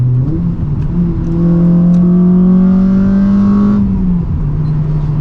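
A Honda car engine revs up close and loud, its exhaust note climbing steadily in pitch, then it drops back abruptly to a lower idle drone.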